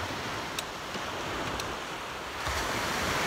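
Rough sea surf breaks on a beach where someone is surfcasting. The steady wash of waves comes with wind buffeting the microphone and a few faint clicks, and no one speaks.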